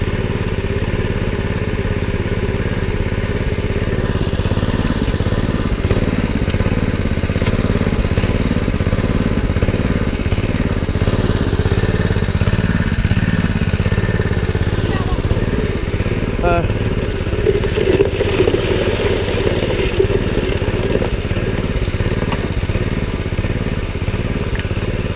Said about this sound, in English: Pump's running a little funny. I think the carburetor needs to be rebuilt on it.